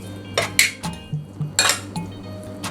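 Seasoned shrimp being mixed in a bowl, with a utensil clinking and scraping against the bowl in a loose series of close, distinct knocks.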